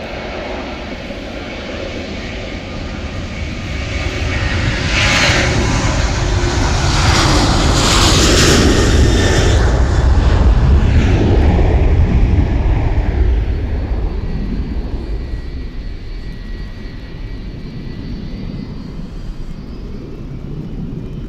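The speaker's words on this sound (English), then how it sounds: "You'll see a Ryanair go across any second." Ryanair passenger jet passing overhead in rainy outdoor weather, a loud broadband roar that swells to a peak midway and slowly fades, with no talk.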